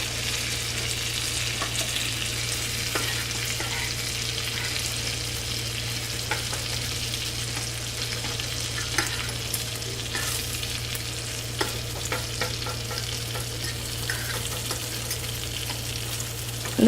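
Food fries in a pan on the stove with a loud, continuous, dense sizzle and crackle, broken only by occasional small pops and clicks, with no voices.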